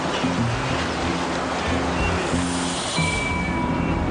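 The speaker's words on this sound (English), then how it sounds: "these modern wildebeest crossing the Mara River in East Africa" Wildebeest crossing the Mara River in East Africa, with rushing river water as a loud, steady roar of broadband noise throughout and faint low tonal hums running beneath it.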